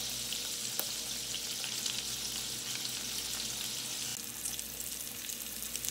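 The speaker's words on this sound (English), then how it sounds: "I have it on a medium heat, and I'm just going to let it cook through on one side, then flip them" Hamburger steaks fry in a pan over medium heat with a steady, close, continuous sizzle and crackle throughout, with no voices.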